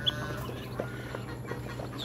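Soft, low clucking from a chicken nearby at an ostrich farm in Cavite, Philippines, repeated in short bursts over a faint background hum.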